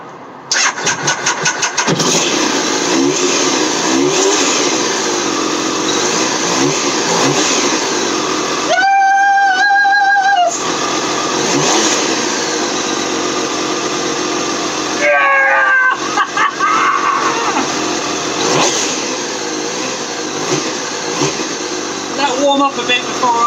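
A Triumph Daytona T595 motorcycle engine is cranked over with two loud, close whining bursts from the starter, separated by a steady background hum, while a person talks nearby.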